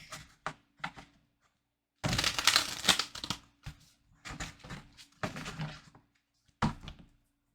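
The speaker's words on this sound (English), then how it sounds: "So let's shuffle your deck." A tarot card deck is shuffled by hand in scattered bursts of riffling, tapping and soft slapping, with short pauses between them.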